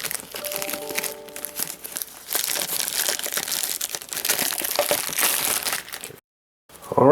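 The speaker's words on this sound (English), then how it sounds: "let's tear this open right now." Packaging of a JBL Live 300 TWS true wireless earbuds box being cut and torn open, with close, continuous crinkling and crackling of paper and plastic that runs for several seconds before a brief silence.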